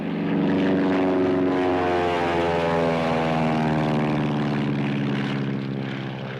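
Propeller airplanes of the Aero Patrol in a 1934 film, a loud, steady multi-engine droning hum with a throbbing buzz that holds constant and fades slightly at the end; no talking.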